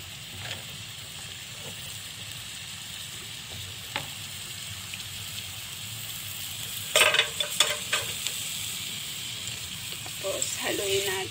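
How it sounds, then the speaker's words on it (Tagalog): Onions frying in a pot for corned beef with potato hiss in a soft, continuous sizzle, and bursts of spoon scraping and stirring come up louder near the end. "Tapos, haluin natin. Ayan. Hanggang maluto ang sibuyas."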